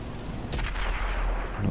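A single heavy tank cannon shot in World of Tanks lands close and loud, its sharp blast giving way to a low rolling rumble that lingers to the end, with no voices.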